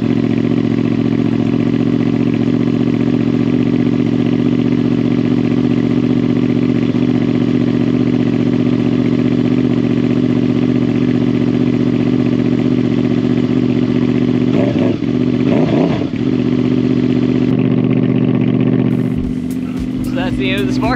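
A Honda VFR800 motorcycle engine idles steadily and loudly up close after spark plug replacement, then gets a few quick throttle blips and revs near the end.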